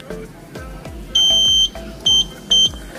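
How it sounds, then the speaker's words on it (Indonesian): A Honda Scoopy FI 2014 keyless alarm arms with three short, high electronic beeps over a steady low engine idle, each about a quarter second long and evenly spaced. "apabila sudah ditekan tombol ini dan berbunyi bip 3 kali, berarti untuk alarm ini sudah aktif"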